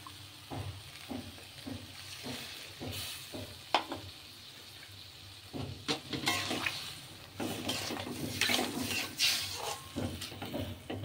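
Water poured into a pot of simmering mustard-poppy paste for shukto, splashing and sizzling close by, with scattered stirring clinks before a longer rushing pour toward the end.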